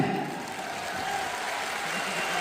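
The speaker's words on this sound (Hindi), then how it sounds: "मंजूर हो तो थोड़ा जोरदार तालियां हो जाएं" Audience applause at an anniversary gathering, a steady wash of many hands clapping, moderately distant and fairly quiet, filling the whole moment without a break and with no talk over it.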